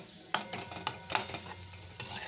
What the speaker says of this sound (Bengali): এটা দিয়ে নেড়ে নামিয়ে নিচ্ছি